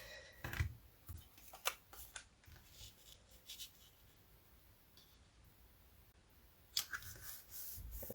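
Scissors snip through cardstock triangles for a twisted easel butterfly card in a quiet craft space, several short close cuts in small clusters separated by brief pauses.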